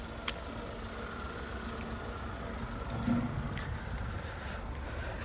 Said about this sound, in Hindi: तो ये इसकी है इंजन नॉइस। तो 3 सिलेंडर इंजन है